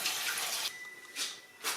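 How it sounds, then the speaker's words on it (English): Water running from a tap into a canner on a stovetop, filling it to about two inches deep for canning jars; a steady broadband hiss in three bursts, loudest at the start, heard alone. "I'm making sure it has 2 inches of water in the bottom of it."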